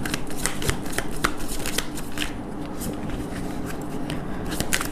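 Tarot cards are shuffled and drawn by hand close to the mic, a loud, continuous papery riffle with crisp snaps as cards flick and slide against the deck.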